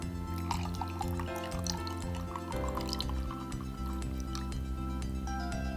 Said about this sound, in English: Let's go ahead and pour in till we get to